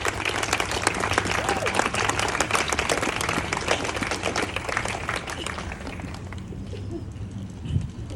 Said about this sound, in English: Let's give everyone a round of applause again.